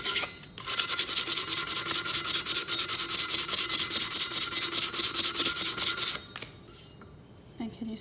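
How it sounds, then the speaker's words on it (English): Rapid, rhythmic back-and-forth scraping of 60-grit sandpaper on a tumbler cup, loud and close, running for about six seconds before stopping. "you want a lower grit so that you can get the sanding done faster"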